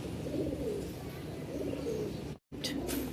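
Pair of racer pigeons cooing steadily and close by, a continuous low burbling murmur that runs throughout, broken by a brief dropout near the end.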